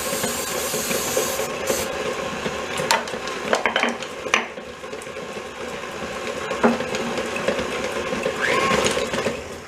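An electric mixer whirs steadily as it beats teacake dough, with a constant motor hum. Scattered clinks and knocks from the bowl and beaters sound over the top.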